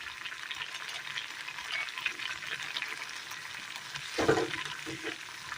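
A Kerala roast curry comes to a boil in a pot, giving off a faint, steady bubbling simmer with a slightly louder burst of bubbling near the end.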